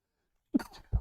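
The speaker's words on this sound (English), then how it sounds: "Sorry for sneezing in the mic" A single sneeze bursts close into a microphone after a second of silence, a sharp onset trailing off, then a low thump at the end.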